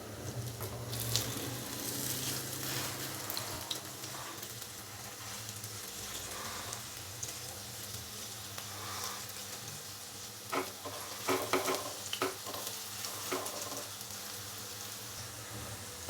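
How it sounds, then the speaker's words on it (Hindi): Grated potato and cabbage snacks sizzle steadily in a pan over a medium flame, a continuous close frying hiss with a few brief louder crackles and clatters toward the end. "माशाल्लाह से आलू और बंद गोभी के जो स्नैक्स हैं वो बहुत ही अच्छे से फ्राई हो चुके हैं"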